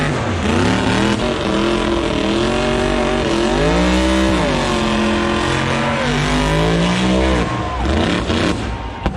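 A Chevy crew cab pickup drifts at an LS Fest event, its loud V8 rising and falling through repeated revs with tire noise, a roaring crowd-and-track wash, and faint commentary underneath.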